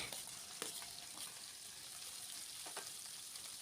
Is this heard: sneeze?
no